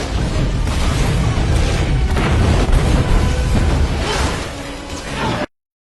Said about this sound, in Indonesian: serangkaian ledakan hebat mulai mengguncang kerangka Poseidon